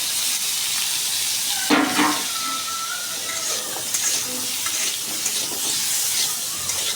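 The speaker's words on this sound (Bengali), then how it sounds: "এখন কাঁঠালের বিচিগুলো ভেজে নেব।" Jackfruit seeds frying in hot oil in a pan produce a steady close sizzle, with a brief clatter near the start and light stirring noises over the crackle.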